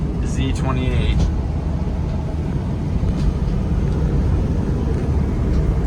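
A maroon 1981 Chevrolet Camaro Z28 engine runs at a classic car dealership in Bradenton, a steady low rumble that holds evenly throughout at close range.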